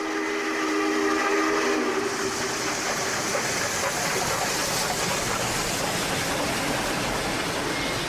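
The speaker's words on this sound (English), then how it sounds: "Excellent whistle." A steam locomotive whistle from the SP&S 901 Challenger sounds near Ruby Creek Tunnel, with a held tonal blast at the start, then giving way to a loud rushing, rumbling passage of the train.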